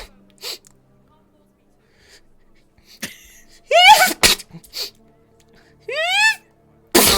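Several sharp sneezes with voiced, rising nasal bursts, separated by pauses; a short voice sound comes early, and the sneezes are loud and close.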